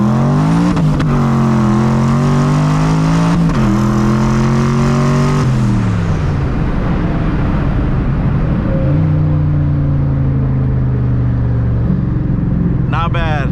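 A 900 HP turbocharged Ford SVT Cobra pulls hard through the gears, its loud engine note sweeping upward in repeated climbs broken by shifts, then settling into a lower drone before rising again, with someone talking over it.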